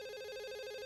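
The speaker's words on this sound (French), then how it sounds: "Le téléphone." A telephone rings in a short, steady electronic burst with a bright pulsing tone, heard alone at moderate level.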